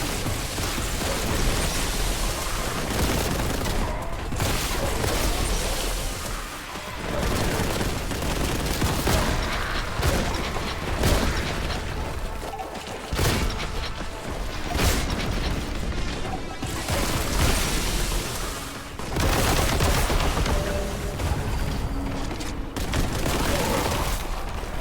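Rapid, heavy gunfire from a bolt gun in Warhammer 40K: Boltgun blasts in near-continuous bursts with short pauses, loud and dense, with booms mixed in and a voice speaking at times.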